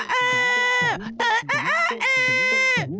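A person imitates a rooster, letting out several loud, stretched crowing calls in quick succession, close up with no other sounds.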